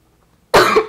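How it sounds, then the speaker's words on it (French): A single short cough from a man sitting close to the microphone, loud and sudden after near silence. "j'ai une petite toux, je vous l'ai déjà dit"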